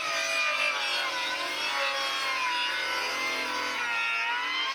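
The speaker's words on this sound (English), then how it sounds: "put the saw to a 45-degree angle and make a miter cut." A saw cuts a 45-degree miter through a wooden board for a DIY garden bed. The rasping whine is steady and close and runs unbroken for nearly five seconds, with no talk.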